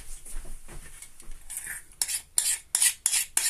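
Curry turkey four-cheese sauce scraped from a small saucepan onto rice, with a series of sharp metallic scrapes and taps of a utensil against the pan, growing louder and more rhythmic toward the end.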